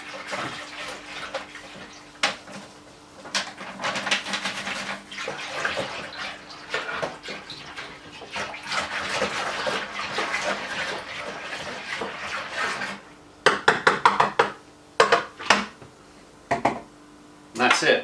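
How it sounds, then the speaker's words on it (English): Tap water running steadily into a cider fermenter for a strawberry and pear cider kit, a continuous splashing hiss that breaks into short bursts and clunks near the end. "it's just going to be me filling it up with water"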